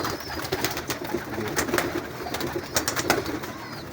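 Soft cooing of pigeons inside a rooftop loft of high-flyer birds, a continuous, fairly quiet murmur of many birds close by, with occasional wing flutters and no talking.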